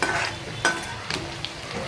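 Onions frying in a pan for spicy misal pav, a steady crackling sizzle with a few sharper pops and stirring scrapes, close and fairly loud, with no talk.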